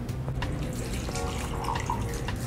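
Water pours from a pitcher into a glass at a restaurant table, a soft, steady trickling and splashing over about two seconds, close by and fairly quiet, with no talk.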